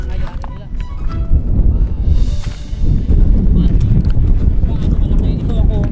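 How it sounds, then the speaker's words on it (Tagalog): Strong wind buffets the microphone out on the open sea near El Fraile, roaring loud and continuous with rushing, rumbling gusts and surging water. "lumalakas na yung hangin tapos lumalakas na rin yung alon"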